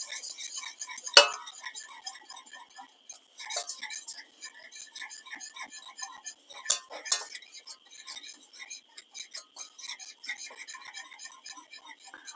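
A utensil stirs flour into a cheese sauce for asparagus with ham, making repeated light clinks and scrapes against a pot. Occasional louder knocks stand out, and soft voices are faintly present.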